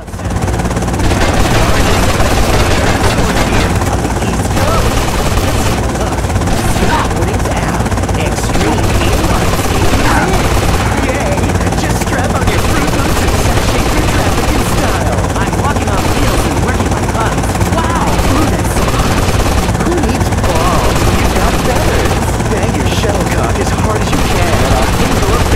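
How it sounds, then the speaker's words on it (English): A Secret Service helicopter comes in during a GTA: Liberty City Stories mission, its loud constant rotor thrum filling the whole stretch, with talk and scattered gunfire over it. "Secret Service coming in by helicopter!"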